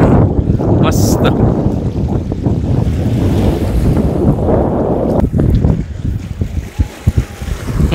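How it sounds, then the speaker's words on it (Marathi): Sea water surging over a coastal road at Edwan village near Saphale, a loud, close, continuous rush of waves with heavy wind buffeting the microphone and a few sharper splashes near the end. "बघा कसं समुद्राचं पाणी या बाजूला देखील वरती येत आहे, ह्या बाजूला येऊन त्या बाजूला जात आहे पाणी"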